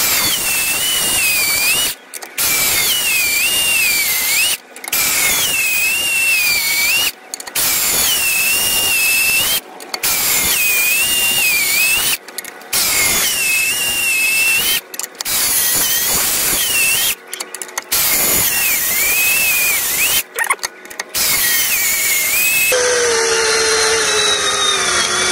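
Cordless screwdrivers from Amazon and Temu drive long screws into wood, each run a loud, whining motor buzz with wavering pitch, broken by short pauses between screws, repeating about ten times in steady succession.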